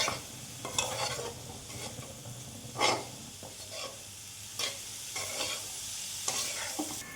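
Chopped onion and green chillies fry in a pan, a steady sizzle broken by repeated scraping stirs of a spatula, close and fairly quiet with no talking.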